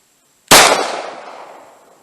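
A single sharp 10mm shot from a Glock 20 pistol fired into ballistic gel, loud and close, with a sudden crack that decays over about a second and a half.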